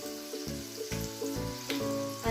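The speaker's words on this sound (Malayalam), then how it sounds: "പാന് വെച്ച് എണ്ണ ഒഴിച്ചിട്ടുണ്ട്. നന്നായി ചൂടായിട്ട് നമുക്ക് മിക്സ് ഇതിലേക്ക് വെച്ചെടുക്കാം." A spiced tomato mixture fries in hot oil in a pan, giving a close, steady sizzle that swells in a few bursts as it is stirred.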